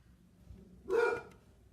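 A dog gives one short, sharp bark at moderate distance in a quiet home, alone and without talk.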